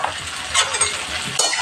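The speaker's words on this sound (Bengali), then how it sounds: "এবার বন্ধুরা নুন হলুদ মেখে চিংড়ি মাছটা ছেড়ে দিচ্ছি" Prawns rubbed with salt and turmeric dropped into hot oil with onion and snake gourd, a loud close sizzle and crackle of frying with brief stirring scrapes.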